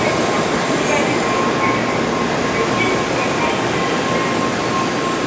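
Shinkansen Nozomi bullet train at Tokyo station, a loud continuous rolling rumble with a thin high whine and wheel squeal running steadily throughout, close by and filling the whole space.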